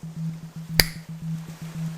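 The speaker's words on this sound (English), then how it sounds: "I will snap my fingers" A single crisp finger snap cracks out sharply near the middle, set against a steady pulsing low binaural-beat hum during a hypnosis session.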